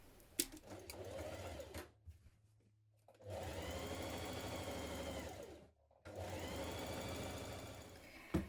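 A sewing machine runs in two long steady bursts, stitching down the centre of a dress seam, with a few brief clicks and quieter handling sounds between runs.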